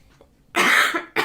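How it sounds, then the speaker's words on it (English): A person coughs indoors: two harsh, close coughs, the first longer and the second cut short, with no speech. "probably you're gonna hear me sneezing and coughing"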